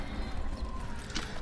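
Horse hooves clop in the Assassin's Creed video game, a soft, muffled patter under a low background bed, brief and fairly faint.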